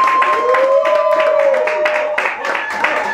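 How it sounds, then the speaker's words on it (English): Audience applause for a comedian at a local Baltimore stand-up comedy show, steady clapping from a small crowd heard beneath a person talking over it. "a warm round of applause"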